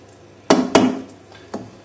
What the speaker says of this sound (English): And just give that a little stir in.